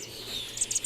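European starling chicks give a quick burst of three or four high, shrill chirps close by, rising out of a soft hiss near the end.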